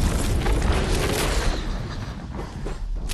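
A rocket launches with a loud, sustained roar and boom during a Fortnite-style battle royale video game match, dense broadband rumble filling the whole stretch before easing slightly toward the end.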